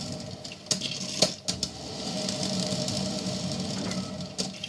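A Hamilton Beach stainless steel electric percolator brewing coffee, heard close as a steady bubbling rumble punctuated by several sharp metallic ticks and pops, with no one talking.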